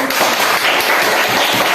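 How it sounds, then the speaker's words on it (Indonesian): A roomful of children clap their hands together during a classroom lesson, a dense, steady patter of many overlapping claps that stays loud and close from start to finish with no voices over it. "Oke, tepuk tangan"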